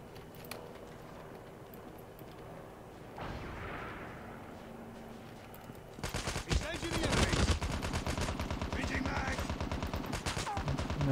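Gunfire in the Call of Duty Mobile video game: scattered distant shots at first, then close, rapid bursts of automatic fire growing louder toward the end.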